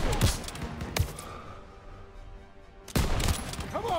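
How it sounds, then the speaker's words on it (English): Gunfire in the Call of Duty: WWII campaign, with sharp loud bursts near the start and again after a lull of about two seconds, sitting over a dense battlefield din. "Suppressive fire! Keep firing!"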